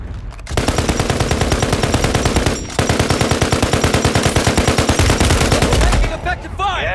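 Sustained rapid automatic gunfire in a video game firefight, dense bursts running loud and continuous for several seconds with a brief pause midway, ending in scattered trailing noise.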